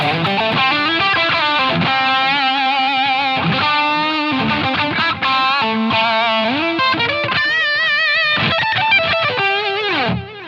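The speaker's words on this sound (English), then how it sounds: "I've got a little bit of my reverb on, even if I put my delay back in there" An electric guitar through a Line 6 Helix plays a distorted, sustained melodic line with a wash of reverb and delay trailing each note, loud and continuous.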